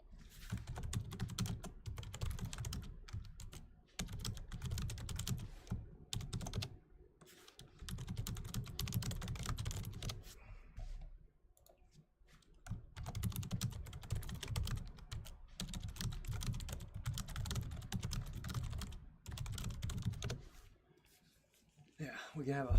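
A computer keyboard is typed on in steady bursts under almost continuous talking, and the clicks come through during the pauses in the voice.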